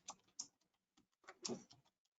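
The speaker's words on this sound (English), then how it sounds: "You can hear me typing" Quiet keyboard typing in short bursts of clicks and taps at a computer keyboard, close and soft, with gaps between bursts and no talking.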